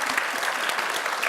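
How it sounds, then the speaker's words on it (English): Applause from an audience at a presentation honouring a team's project, steady dense clapping throughout, close and fairly loud with no talking. "I just want to give another round of applause to both of them"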